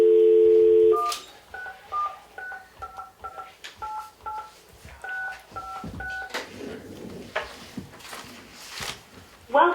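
A telephone keypad sends a quick series of DTMF beeps while someone dials in to a Zoom call during a town selectmen's meeting. A short steady tone comes first, then about a dozen rhythmic dial beeps, with room clatter and faint voices around them.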